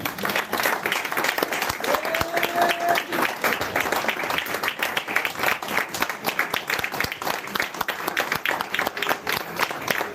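A church congregation in Paris applauds steadily and densely for about ten seconds, a broad wash of many hands clapping at once, with a brief faint voice or tone early on.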